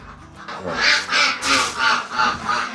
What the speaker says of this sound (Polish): Patrzcie, jak te kaczki głośno kwaczą.